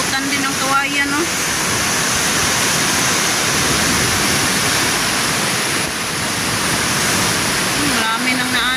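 The Piñan river in flood rushing with a loud, steady broadband roar of churning water, close and continuous, with a voice speaking briefly over it near the start and end.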